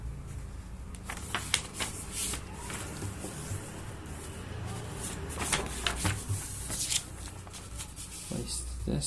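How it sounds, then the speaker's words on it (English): Paper is creased and folded in half while making a paper spirit mask. Close, continuous crinkling and rustling runs throughout, with sharper crackles here and there. "actually let's fold this in half."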